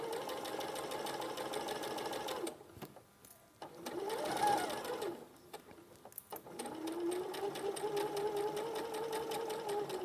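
A sewing machine stitches in steady runs, a fast whirring hum that pauses briefly twice before starting up again, close and clear with no talking.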